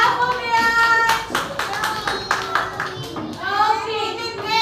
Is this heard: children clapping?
yes